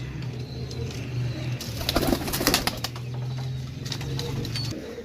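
Pigeons for sale coo in low, repeated, throaty bursts close by, mixed with fluttering wing flaps and rustling in the middle; no speech is heard.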